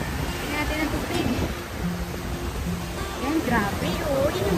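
Sea waves wash steadily onto the beach at Boracay, a continuous roar of surf mixed with wind buffeting the microphone, while people talk nearby.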